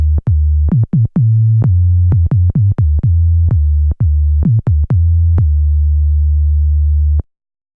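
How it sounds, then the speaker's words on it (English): A KORG minilogue synthesizer's filter at full resonance with its oscillators off rings as a pure sine tone, struck in a loud, close series of short and sustained notes that start with a bright click and then hold steady. "you can turn up the resonance all the way, kill the VCOs, so you can use the filter as a sine wave oscillator"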